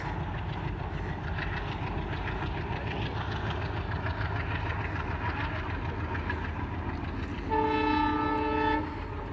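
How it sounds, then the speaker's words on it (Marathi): A train passes on the railway line below Dhavalgad fort near Purandar, a continuous rolling rumble and clatter that ends with a loud, sustained horn blast, with no talking. "या साईडून आपण आता रेल्वे पाहणार आहोत"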